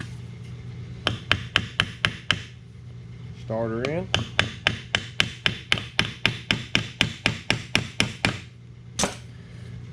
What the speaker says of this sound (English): Some of y'all will recognize the good old brass hammer.